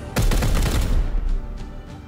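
Gunfire from Chaos Gate: Daemonhunters, a loud dense burst of shots over the first second that fades into scattered fainter reports and rumble, with no talking.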